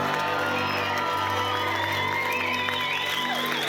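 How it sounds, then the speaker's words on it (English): Wedding guests cheer and applaud continuously, with whoops and shouts rising over steady clapping in a lively room. "Can we have a huge round of applause for Mrs. Richardson, please?"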